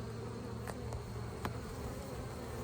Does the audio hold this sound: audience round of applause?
no